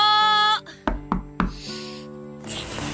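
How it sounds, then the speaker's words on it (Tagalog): Three sharp knocks on a door at night, loud and close, spaced a few tenths of a second apart, over a held musical drone with no voices. "Sino kaya yung kumakatok sa labas?"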